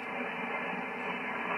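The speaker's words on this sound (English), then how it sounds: "Yeah, it's really noisy. I'm getting static crashes." Broadband static hiss and crackle fills an amateur radio HF band contact between Northern Ireland and Wales, steady and fairly loud with no voice over it.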